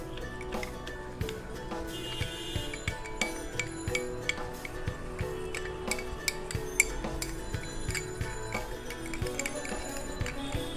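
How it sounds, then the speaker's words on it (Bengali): Almond oil being stirred into a homemade ginger cream in a small container, with faint continuous scraping and light clinks of a spoon against the side, close and quiet, with no voices. "1 চা চামচ বাদাম তেল মিশিয়ে দিব এবং ভালো করে নাড়তে থাকবো।"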